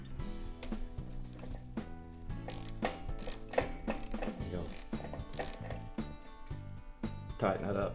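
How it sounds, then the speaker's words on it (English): Torque wrench ratcheting while tightening a tether bolt, with rapid repeated clicks in uneven bursts, close and steady, under a voice speaking. "use your torque wrench."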